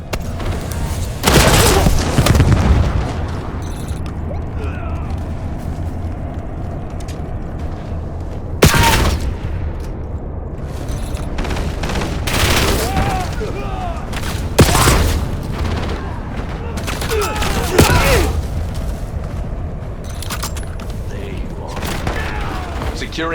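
Gunfire and grenade explosions in Black Ops 7, with loud booming blasts and sharp shots at intervals across a steady battlefield background, and game voice callouts mixed in.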